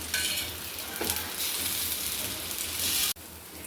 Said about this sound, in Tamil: இந்த தோசைக்கு எண்ணெயோ நெய்யோ ஊற்றிக்கலாம் என் பையனுக்கு நெய் பிடிக்கும் அதனால் நெய் தோசை நெய் ஊற்றிக்கிறேன்